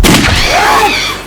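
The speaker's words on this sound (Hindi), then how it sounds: "ये तो गोली की आवाज है।" A single loud gunshot in a tense crime drama scene, a sharp boom with a long ringing decay, close and dominant with no voice over it.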